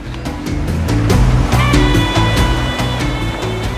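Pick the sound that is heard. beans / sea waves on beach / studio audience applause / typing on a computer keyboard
sea waves on beach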